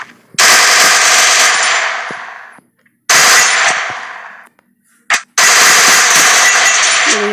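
MP40 submachine gun in the video game Free Fire, loud rapid automatic bursts in three long strings separated by brief pauses, with a short blip of fire between the last two.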